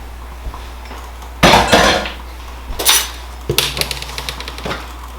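Dry cake ingredients for a chocolate layer cake tipped into a bigger mixing bowl, heard as loud clattering bumps and scrapes of bowl and utensils, a few separate bursts with quiet gaps between.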